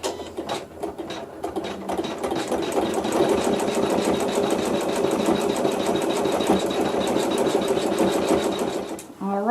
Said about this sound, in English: the machine will sew the final quilting